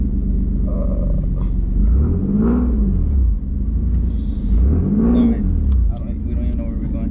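A single-turbo Nissan 370Z engine rumbles steadily and revs up twice while driving, rising and falling in pitch, with a continuous low drone throughout.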